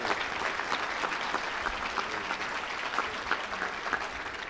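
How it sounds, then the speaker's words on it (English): Dense, sustained audience applause filling a political State of the District event honoring Congressman Gonzalez, steady and fairly loud throughout with no talk over it. "One more round of applause for Congressman Gonzalez"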